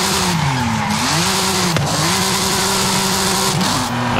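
Car drifting in Forza Horizon 5 played on a cheap steering wheel: a continuous loud engine drone with shifting revs and steady tire squeal, briefly broken by two sharp transients.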